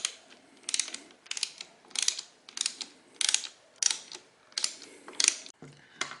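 A 10 mm wrench loosening the locking nut under a motorcycle clutch lever on an Aprilia Tuono V4 Factory, giving a regular series of close mechanical ratcheting clicks in short bursts.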